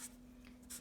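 Writing on paper, a quiet, very brief scratch of strokes, close and faint, with a soft low hum underneath.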